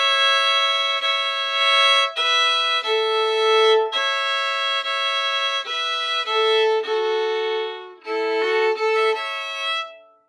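A string instrument plays a phrase of the Old Time tune Liza Jane, a steady run of clear sustained notes moving between a few pitches, played alone and close for about ten seconds.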